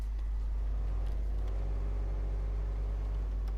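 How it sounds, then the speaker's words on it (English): A low, steady engine drone rumbles continuously from a Rezvani Hercules 6x6 truck in a video game, a slow-revving heavy motor held at slow revs with a faint whine riding above it. "it's a bit of a slower revving engine."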